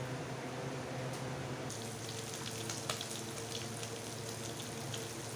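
Goat fat fries in a pan, a steady close sizzle and crackle that holds evenly throughout with one small pop midway and no voices.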